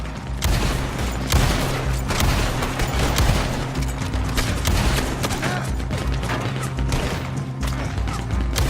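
Sustained heavy gunfire from a war wagon's mounted gun in Red Dead Online, a continuous loud barrage of rapid shots with booms and impacts that holds steady throughout without pause.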